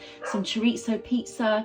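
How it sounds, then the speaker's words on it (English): Pet dogs yip and whimper in a quick burst of short, high barks indoors, mixed with a person talking over them. "please excuse my dogs"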